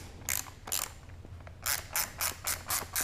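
A hand ratchet clicks in quick rhythmic strokes while bolts are tightened on a motorcycle tail section during a KTM FE 501s Baja build, two short bursts then a faster run of five or six.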